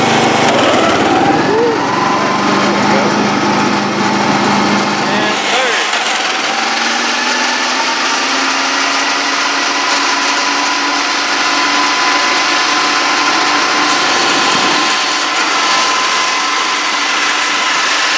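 A Wizard riding mower with a three-speed transmission and new pulleys revs its small engine up into second gear, a loud, steady high-pitched drone whose pitch rises and then holds.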